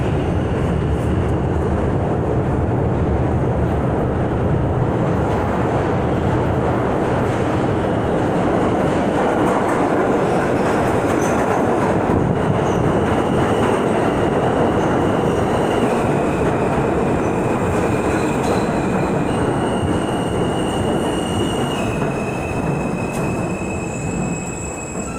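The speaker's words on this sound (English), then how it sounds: "I'm going to pause y'all until the train comes" A subway train pulls into a station with a loud steady rumble of wheels on rails and high, drawn-out squeals from the wheels and brakes as it slows.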